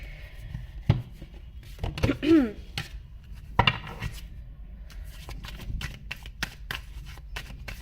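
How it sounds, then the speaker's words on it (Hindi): Tarot cards are handled and laid out on a table in a series of crisp, separate taps, slides and shuffling flicks, close and irregular, with soft background noise. "कार्ड्स मैं आपके सामने रख देती हूँ।"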